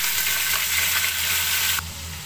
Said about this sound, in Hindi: हम चिकन को अच्छी तरह भूनेंगे।